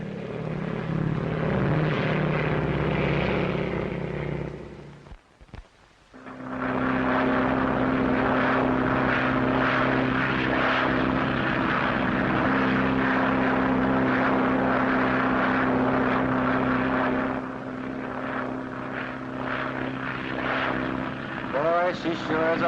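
A propeller airplane drones loudly and steadily, cutting out briefly around the fifth second before the engine roar resumes with a sustained buzzing hum and slight shifts in pitch.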